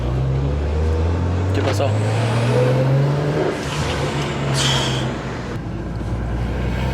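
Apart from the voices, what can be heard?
BMW 335i car driving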